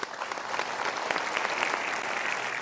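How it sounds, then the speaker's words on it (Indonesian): Studio audience applause at a televised motivational talk show, a dense sustained patter of many hands clapping at moderate loudness with no voices over it. "Boleh berikan tepuk tangan."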